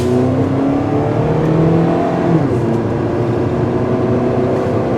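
A Chevy HHR accelerates hard on a driveway as the driver tries to spin its tires, a steady, loud engine drone and whir lasting throughout with a rising pitch and no tire squeal.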